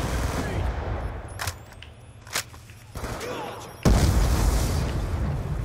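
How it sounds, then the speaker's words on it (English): A Death Machine minigun fires during a Black Ops 2 multiplayer match on Nuketown 2025, with bursts of rapid gunfire and sharp booms over game ambience, some louder and nearer than others. "Be advised, hostile death machine spinning up"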